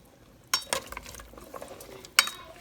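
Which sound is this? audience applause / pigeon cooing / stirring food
stirring food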